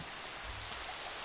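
Steady rain pours down outdoors as a dense, even hiss with no pauses, close and fairly loud throughout the short stretch, with no voices over it.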